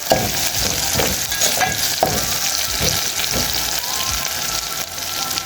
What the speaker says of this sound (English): Let us continue frying the onions until they are well cooked.